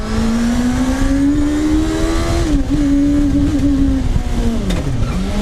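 A car powered by a Suzuki GSXR1000 superbike engine accelerates through a tunnel, its high-revving engine note climbing steadily and loud, dipping briefly as it shifts and then rising again, close and continuous with no talk.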